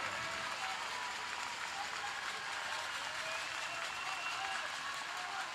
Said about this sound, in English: Hear the Mustang crowd coming alive